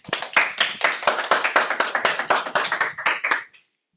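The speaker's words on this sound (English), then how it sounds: "this is how we clap in my club" Audience at a club meeting claps in a quick, even, rhythmic pattern, a tight run of about two dozen sharp claps that stops abruptly.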